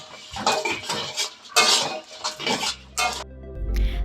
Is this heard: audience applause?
no